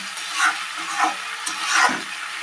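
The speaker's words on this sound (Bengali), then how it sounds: "এই পেঁয়াজ, আদা, রসুন এটা কিছুক্ষণ ধরে কষাতে হবে।" Onion, ginger and garlic sauté in a pan for Bengali katla kalia, with a hissing sizzle and three or four rhythmic stirring strokes and scrapes. The sound is fairly close and moderately loud, with no talking.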